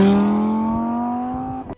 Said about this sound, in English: One was the Audi R8 with rear wheel drive.